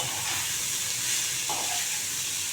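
Mashed cabbage hisses and sizzles in a hot pan. The frying noise is a steady, broad hiss lasting the whole moment, close and fairly loud, with no voices over it.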